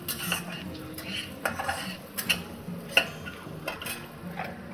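Chopped garlic frying in a pan for pepper paneer, a faint steady sizzle under scattered scraping and clinks of a utensil stirring, close up.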